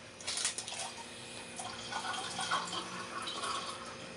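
Water runs from a faucet in a home kitchen with a soft, steady hiss. The rush is faint but continuous, with no voices over it.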